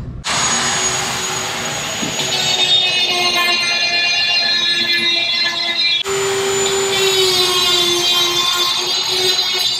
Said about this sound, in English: I'm also gonna use a Dremel on this.